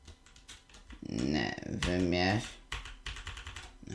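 Fingers tap a computer keyboard in quick clicks while setting up a racing game, with a few light keystrokes at the start and end and a voice speaking over the middle.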